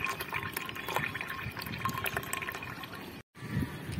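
Water rushes steadily into the inlet tank of a Supreme solar water heater that has an overflow problem, a continuous close gushing fill with a brief break near the end.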